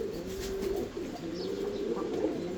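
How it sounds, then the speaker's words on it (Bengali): Young American nun fancy pigeons coo in a soft, continuous low murmur that rises and falls steadily, close by with no talking. "আপনারা দেখতে পাচ্ছেন একজোড়া আমেরিকান নানের বেবি"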